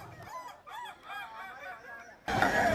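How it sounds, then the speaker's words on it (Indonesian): An ayam kokok balenggek rooster crows at a contest in Padang, West Sumatra, a long multi-part stepped crow heard nearby, cut off by a burst of loud crowd noise at the end. "Perlombaan ayam kokok balengge ini bertujuan untuk melestarikan satwa endemik khas Sumatera Barat"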